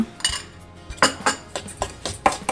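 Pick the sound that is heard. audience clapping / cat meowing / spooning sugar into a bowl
spooning sugar into a bowl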